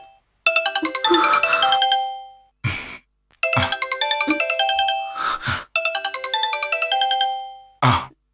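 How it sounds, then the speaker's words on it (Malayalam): A loud electronic ringtone melody plays in repeated bursts with short pauses between them, close to the listener, with a few breathy sounds in the gaps. "അംബികയാ, ഞാനത് അറ്റൻഡ് ചെയ്തോട്ടെ."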